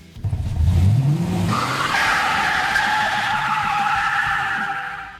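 An all-wheel drive 1/10 scale RC drag car built from an old Team Associated TC4 chassis makes a loud, close run: a rising motor whine and tire skid that climbs, then holds a steady high-pitched howl for several seconds.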